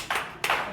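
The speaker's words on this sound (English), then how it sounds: "clap your hands" Two sharp hand claps, about a third of a second apart, ring out at an open mic comedy night, close and distinct, with no voices.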